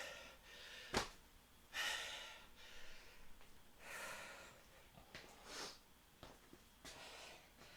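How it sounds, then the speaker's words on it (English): A man breathing heavily after a two-minute exercise interval, with loud sharp inhales, snorts and gasps coming in irregular bursts close to the microphone. "Or listen to my breathing"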